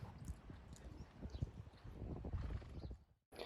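Horses moving across a dirt riding arena, a steady run of soft, muffled hoof thuds heard at a distance, fairly quiet with no talking.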